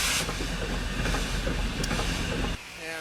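The Big Boy steam locomotive rolls on rails with a loud, steady hiss from a small steam leak past the packing on its front right piston rod. The roar drops off sharply near the end.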